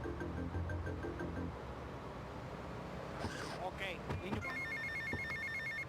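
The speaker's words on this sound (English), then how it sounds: "I interrupted him with my phone ringing" Phone ringing in GTA Vice City Definitive Edition, a repeating trilling bell in short bursts over driving traffic noise and game music, with brief voice-like sounds layered on top.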